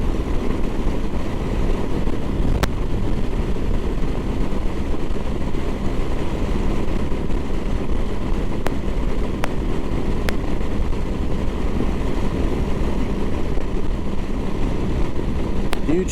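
Motorcycles riding in formation across open Kansas farmland on a clear day, a steady loud engine drone mixed with heavy wind rush, continuous and unbroken throughout.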